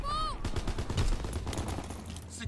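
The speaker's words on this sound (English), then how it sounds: "Call for a strafing run" Rapid, dense gunfire from a Call of Duty WW2 strafing run roars without a break, a close, loud burst of overlapping shots, opened by a brief whistling sweep. No one speaks.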